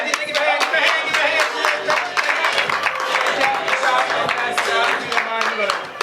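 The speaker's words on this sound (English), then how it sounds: "let's give Toni Hatton another round of applause" Audience clapping for Dr. Toni Hatton, dense and steady for about six seconds with overlapping hands and crowd noise.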